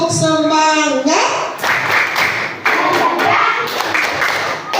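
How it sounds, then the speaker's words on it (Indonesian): A class of schoolchildren claps hands together for a spirit clap, loud and close, in short rhythmic bursts with brief pauses between them. Children chant before the clapping starts. "Tepuk semangat."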